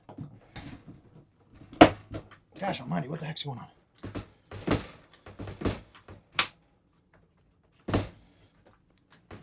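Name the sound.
door latch on a camper trailer door being worked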